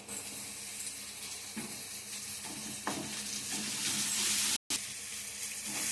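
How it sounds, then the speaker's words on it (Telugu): Chopped tomatoes and curry leaves fry for mushroom curry, a steady close sizzle with occasional stirring scrapes and clicks, rising slightly louder near the end with a brief cut, no talking. "ఇలా కొంచెం ఫ్రై అయ్యాక కరివేపాకు కట్ చేసుకున్న టమాటాలు కూడా వేసేసుకున్నాం"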